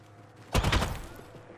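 Bursts of rapid gunfire from the video game Apex Legends, a loud close volley of several quick shots that tails off within about half a second.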